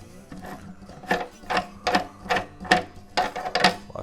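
Bolt being unscrewed from the neck joint on the back of a guitar, a rhythmic series of about eight ratcheting, clicking turns, close and fairly crisp, with no talking.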